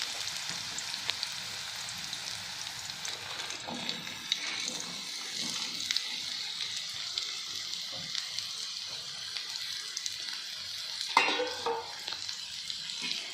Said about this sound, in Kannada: ಈಗ ಹಾಗಲಕಾಯಿಯನ್ನು ನಾವು ಕಾಯ್ದ ಎಣ್ಣೆಗೆ ಹಾಕ್ಕೊಳ್ಳೋಣ